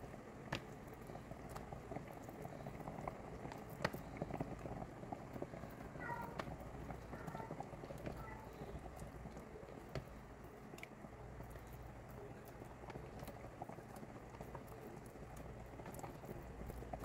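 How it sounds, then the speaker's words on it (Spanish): Broth boiling in a pot as meatballs are dropped in a little at a time, a steady close bubbling hiss with scattered faint plops and clicks throughout, no voices. "Ya empieza a hervir y empezamos a incorporar nuestras albóndigas poco a poquito."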